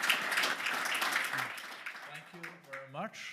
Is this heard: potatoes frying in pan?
no